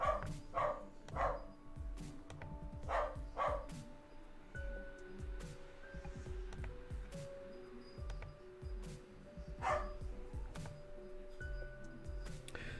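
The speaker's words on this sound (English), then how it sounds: "I hope you don't mind listening to the bark and dogs." Dogs bark in the background of a studio space, a few short distant barks scattered over a steady room hum with light ticking and clicking noises.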